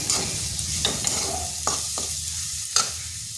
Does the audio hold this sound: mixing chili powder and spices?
yes